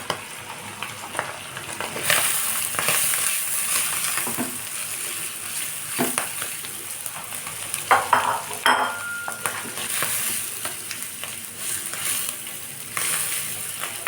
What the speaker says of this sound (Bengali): এ পর্যায়ে আমি চিকেন অ্যাড করে দিচ্ছি।